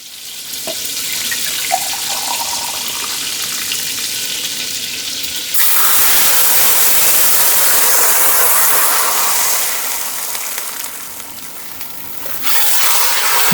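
Water runs from a tap into a cooking pot for rice, a steady broadband rush that swells louder midway, eases and then picks up again toward the end, with no voices.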